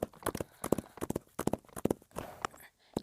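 Horse hooves in the Roblox game Wild Horse Island thud in quick, rhythmic clusters of galloping beats, close and crisp, with a short pause near the end.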